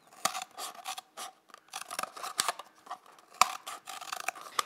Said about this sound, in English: take your scissors from the top of the cup, cut down to the line that you just marked